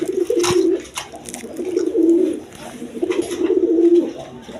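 Pigeons cooing up close, three low rolling coos in a loose rhythm, loud and clear with no talking.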